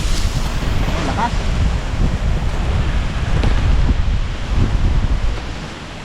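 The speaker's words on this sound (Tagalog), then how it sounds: "Lakas ng hangin." Strong outdoor wind buffets the microphone in a steady, loud low roar, gusting slightly stronger midway before easing near the end, with no other clear sounds.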